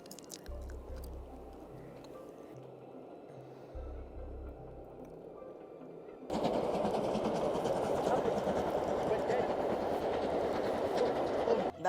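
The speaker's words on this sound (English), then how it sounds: "it was just a train" A train crossing a bridge in Scotland rumbles nearby, the sound swelling abruptly into a loud, dense roar with rhythmic clatter of wheels over the track.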